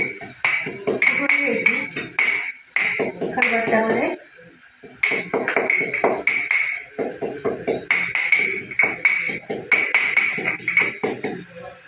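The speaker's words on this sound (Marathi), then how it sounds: "इथे कापून आता खलबत्त्यात जरा कुटून घेते बारीक" Green chillies and ingredients for egg bhurji pounded in a stone mortar and pestle, giving repeated sharp knocking thuds in an uneven rhythm at close range, with occasional ringing metallic clinks and a short pause midway.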